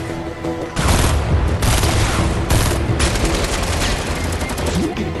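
Gunfire in the video game Fortnite: loud, sustained bursts of rapid shots in a busy firefight, continuing dense and close throughout with brief pauses between volleys.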